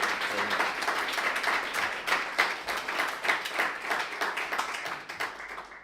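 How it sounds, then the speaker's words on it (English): Applause from an audience at a game development talk event, dense steady clapping from many hands filling the room for several seconds before tapering off at the end. "So another round of applause, please."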